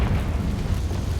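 A Confringo fire spell bursts in Hogwarts Legacy, a dense, rumbling explosive roar that stays loud and steady for its whole short span with no talking over it.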